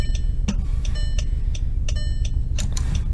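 Car hazard lights in the Roblox Greenville game clicking in a steady, even rhythm about three times a second, sharp and close over a low, constant hum.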